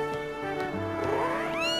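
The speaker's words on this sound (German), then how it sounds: "Ich dachte zuerst, es wäre eine Katze mit Fledermausohren." Cat-like creature with bat ears meowing in the video game Zelda Skyward Sword, a few high wavering meows and a rising caterwaul, close and fairly clear with no talk over them.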